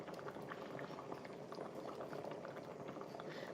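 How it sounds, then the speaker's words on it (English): Vegetable soup bubbling at a steady rolling boil in a pot, a continuous close, dense gurgle with popping bursts and no voices over it. "It's boiling hot."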